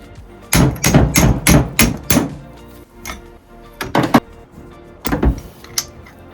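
A hammer knocks the piston wrist pin out of a Poulan Pro chainsaw. Sharp metallic taps come in a quick cluster, followed by a few scattered single strikes, close and distinct.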